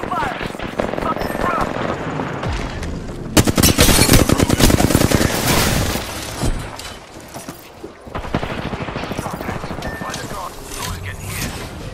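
Rapid automatic gunfire rattles in a video game firefight, with long dense bursts and heavy shots at close range, loud throughout, and voices call out over the shooting.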